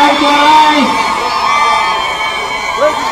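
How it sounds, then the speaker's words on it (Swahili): A large outdoor crowd at a political rally in Pokot cheers, whoops and ululates loudly for the Deputy President, a continuous dense roar of voices with high trilling calls. "wapi shangwe na vigelegele za Mheshimiwa Naibu wa Rais?"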